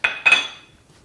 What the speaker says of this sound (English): all I'm going to do is just put them in with the cream, and I'm going to mix that round